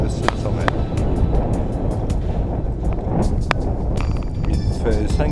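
Strong wind buffeting the microphone at the summit of Mount Teide, 3,700 metres up on a cold day, a steady loud low roar with gusty rumble throughout and a few brief clicks.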